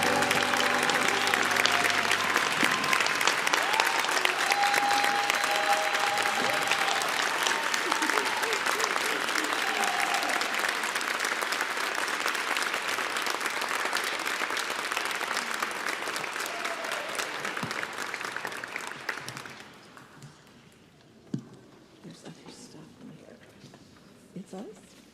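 A concert audience at an MLK celebration applauds a performer with loud, sustained clapping and some crowd noise. The applause stops abruptly near the end, leaving a quiet room with a few scattered sounds.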